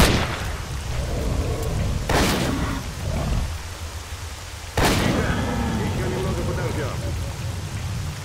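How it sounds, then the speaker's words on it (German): Steady rain hisses across the scene in the game S.T.A.L.K.E.R. Call of Pripyat, broken by two sharp cracks of thunder that roll off, while a voice talks quietly underneath. "Alter, jetzt regnet das hier."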